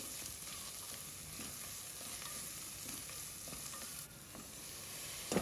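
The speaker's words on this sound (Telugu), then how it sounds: "పచ్చివాసన పోయే వరకు ఫ్రై చేసుకోవాలి సాల్ట్ సరిపడినంత చూసి వేసుకోవాలి కొద్దిగా పసుపు ఇవన్నీ బాగా కలుపుకోవాలి" Vegetables frying in a pan with salt and a little turmeric, for a flat bean curry, give a steady, close sizzle with occasional soft stirring scrapes and no talking.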